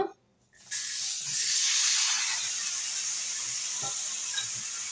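Chopped tomatoes tipped into a hot pan for chutney: after a brief quiet, a loud, bright hiss bursts up and holds as a sustained sizzle, close and alone.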